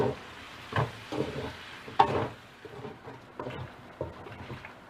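Pork belly stir-fried with soy sauce and garlic in a pan, with soft scraping stirs and a low sizzle; the spatula strokes come in irregular bursts over a steady frying hiss, close by and fairly quiet.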